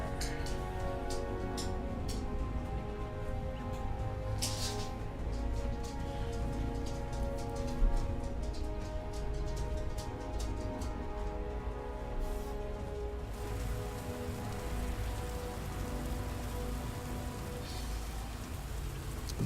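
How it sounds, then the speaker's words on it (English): Steady rain pours down in the video game Path of Exile, a dense, even hiss of falling drops that runs throughout with no talking. "It's raining now."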